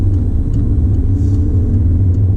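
Car engine rumbling low and steady as it pulls away in first gear on a driving test route in Headington, Oxford, heard from inside the cabin with no talking.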